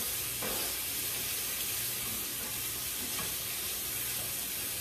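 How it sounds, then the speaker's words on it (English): Peppers and garlic fry in a pan with a constant, loud sizzling hiss, broken by a few faint clinks and stirring scrapes. "Hopefully you can hear me over the sizzling"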